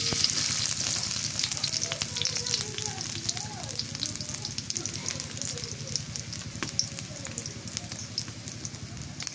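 Onions frying in a pan with oil, cooked for a curry of rita fish, pui shak and ash gourd. A steady, moderately loud sizzle runs throughout with a soft crackle, and faint scattered clinks come and go.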